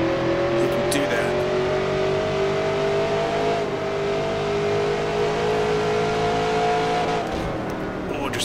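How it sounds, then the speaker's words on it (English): A 1966 NASCAR Grand National race car engine in a racing video game holds a steady loud high drone that climbs slowly in pitch toward the top of the rev range, then drops briefly near the end. "Hitting the top of the rev range there. Down to first gear."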